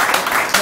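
Brief burst of dense applause from an audience welcoming the poet Suresh Aakash at a comic poetry recital, loud and continuous for under a second.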